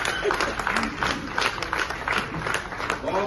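Loud, dense applause from a theatre festival audience, steady clapping sustained throughout with a crowd murmur beneath.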